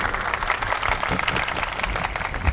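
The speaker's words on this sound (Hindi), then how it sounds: "ताली बजा रहे उनके लिए" A crowd applauding at a mushaira poetry gathering, giving dense steady clapping throughout.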